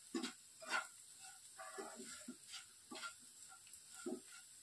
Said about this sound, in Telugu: ఈ కరివేపాకు కూడా వీటితో పాటు చక్కగా ఫ్రై అయిపోవాలి